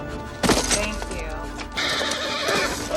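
A horse neighs loudly in a scene from the 1995 film Braveheart, a sharp whinny near the start followed by a second rising cry, over a dense orchestral and ambient movie soundtrack.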